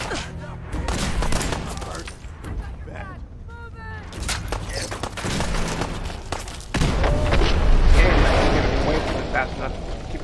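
Grenade blasts and rapid gunfire erupt in a Fallout 4 battle near Diamond City, with dense bursts of shots and heavy booms that build louder toward the end, mixed with voices talking.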